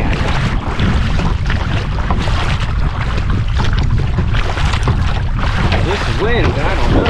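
Strong wind roars steadily across the microphone while kayaking on a lake, a loud, constant buffeting rush with faint water and paddle sounds beneath it.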